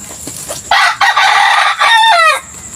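A rooster of a new bloodline crows loudly and close, one long drawn-out call that rises and breaks into a wavering tail, heard clearly with no talking.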